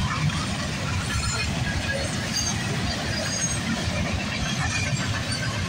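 A fast eastbound BNSF manifest freight train with six locomotives passes close by, carrying a lot of lumber. It makes a steady, loud, continuous rumble of wheels and cars with no voices.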